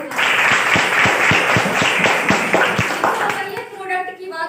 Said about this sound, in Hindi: एक बार इनके लिए जबरदस्त तालियां हो जाए